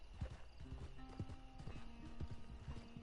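Horse hooves clip-clop at a steady riding gait in Red Dead Redemption II, with a horse whinnying and snorting close by over low outdoor ambience.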